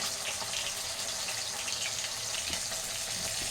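Fish frying in hot oil with curry leaves, a steady, close hiss and crackle that holds at an even level throughout, with no voices over it.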